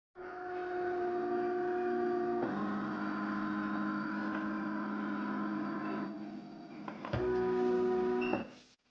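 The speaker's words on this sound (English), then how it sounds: "She definitely has respect for the device since it makes audible, humming noises." Renpho shiatsu foot massage device running with a steady mechanical hum and tonal drone, changing pitch partway through, briefly dropping before resuming, close and continuous with no talking.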